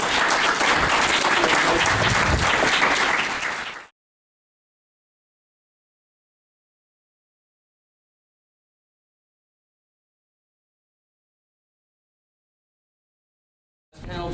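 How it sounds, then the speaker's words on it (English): Audience applause after a panel talk at a video game conference on the history of the video game industry in Chicago, a dense clapping burst of about four seconds that cuts off into silence. "Can I get another round of applause for all of our speakers and our volunteers?"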